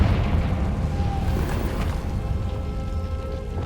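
A Confringo spell explosion in Hogwarts Legacy: a deep, rumbling blast that rolls on continuously for a few seconds, loud and close, with no talking.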